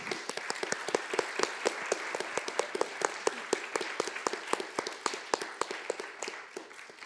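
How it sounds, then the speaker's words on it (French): A museum and exhibitions conference audience gives sustained applause after an exercise, with crisp, fairly close claps in a dense, steady stream. "je pense qu'on peut vous applaudir très fort parce que c'était super"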